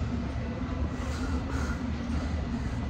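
A London Underground metro train rumbles steadily at a station, a loud continuous roar of wheels and motors with a faint squeal, no voices.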